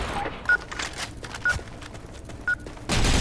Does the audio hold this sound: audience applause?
no